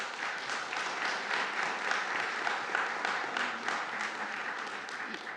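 An audience applauds at the Agoura Hills city council meeting, with sustained, fairly distant clapping from many people that stays steady throughout.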